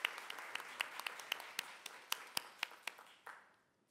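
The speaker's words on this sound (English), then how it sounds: "I want to give a first round of applause to our amazing panel that hit so many good points" Scattered applause for a panel at a public forum on funding public universities at Governors State, sparse and fairly quiet, with individual claps standing out before it trails away within a few seconds.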